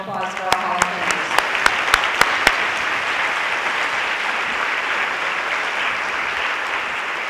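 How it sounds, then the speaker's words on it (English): A ceremony crowd honoring women's athletics Hall of Fame inductees gives a full round of sustained applause, with a few sharp, louder claps standing out early over the steady wash of clapping. "let's just one more time round of applause for our Hall of Famers"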